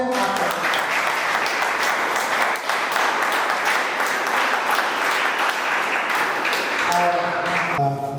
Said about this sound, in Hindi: सभी लोगों के लिए जितने भी हमारे मंच पर बैठे एक बार तालियों से